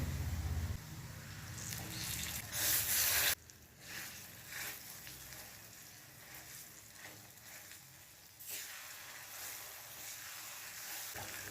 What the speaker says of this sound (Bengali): হলুদটা দেওয়ার পর একটুখানি নাড়াচাড়া করেই আমি যে বরবটিটা বেটে রেখেছিলাম সেটা এর মধ্যে দিয়ে দেব।